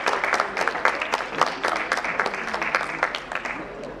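A corporate summit audience applauds a welcomed guest, steady dense clapping from many hands that stays fairly loud and even for about four seconds.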